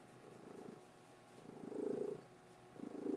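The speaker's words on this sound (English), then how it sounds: "ooh, I can hear her purring" A cat purring softly up close, the rumble swelling and fading in slow rhythmic breaths, with no talking.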